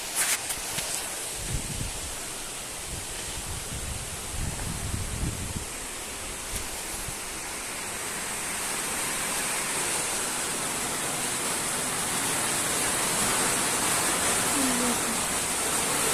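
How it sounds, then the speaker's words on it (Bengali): Heavy rain pours down outdoors, a dense, steady hiss lasting throughout and growing slightly louder toward the end, with some brief handling noises early on. "এখন বাইরে বৃষ্টি পড়ছে, আপনাদের বৃষ্টি দেখাচ্ছি কি পরিমাণে বৃষ্টি হচ্ছে।"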